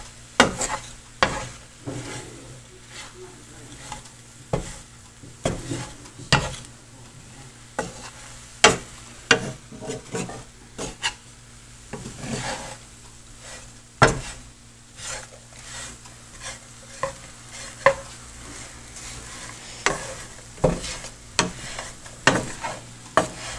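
Stirring caramel-coated bread popcorn in a hot pan: repeated close scrapes and knocks of the utensil on the pan in an uneven rhythm, over a continuous faint sizzle and low background hum, with no speech.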